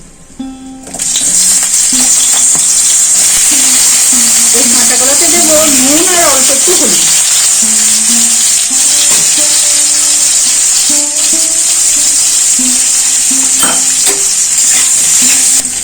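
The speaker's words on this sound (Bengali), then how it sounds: "কাঁচা কলাগুলো ভালো করে ভাজা হয়ে গেল" Raw green bananas fry in mustard oil in a wok, making a loud, steady, close sizzle that runs throughout, with a voice heard briefly over it.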